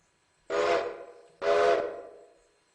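Steam locomotive whistle on a railroad, two strong blasts, the first short and the second longer and trailing off, loud and close with no talk.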